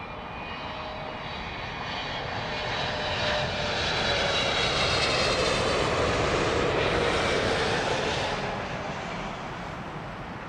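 Airliner jet engines roar at London Heathrow Airport, a steady distant rumble that swells louder in the middle and then eases, with no talk.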